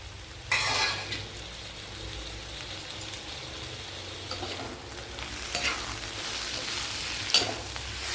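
Tomato frying and being stirred in a pan for capsicum and egg curry, a soft continuous sizzle with intermittent scraping stir strokes and a light utensil clink near the end.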